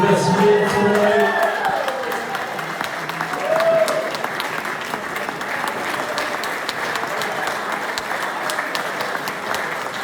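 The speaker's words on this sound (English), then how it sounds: "A big round of applause for the best man tonight." Wedding guests at a reception applaud the best man with sustained, dense clapping and crowd noise, loudest in the opening seconds, then settling into a steady roar for the rest of the ten seconds.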